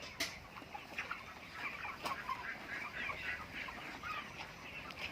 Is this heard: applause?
no